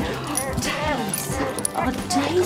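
A dog recovering from a painful jaw and eye problem whimpers and gives small yips at a vet clinic, soft whines close by with people talking over them.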